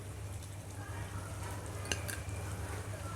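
Frying mixture being stirred in a pan for Rayalaseema-style uggani, a soft steady sizzle with light scraping and one sharp clink near the middle, close and moderately quiet, with no talk.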